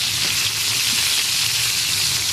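Fish pieces frying in a pan of hot oil, a steady, dense sizzle with fine crackling that holds evenly throughout, close and fairly loud, with no talking.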